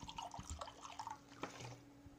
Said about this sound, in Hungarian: az első az az, hogy vizet öntsünk a pohárba